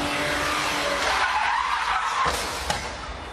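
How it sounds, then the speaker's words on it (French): Tires squeal and skid loudly as a car spins out on a film set, a long screeching smear rising over engine noise, ending with a sharp bump. "il a vraiment un beau tête à queue à faire"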